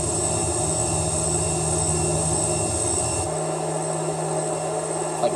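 Toyota Vitz with a 1.5-litre engine in Gran Turismo 3 roars loudly and steadily, a dense droning engine note that drops in pitch partway through as if shifting gear, with no talking over it.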